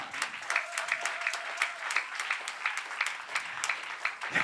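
A church congregation claps in a steady, rhythmic beat of close hand claps, each sharp and regular, joined by a faint sustained voice.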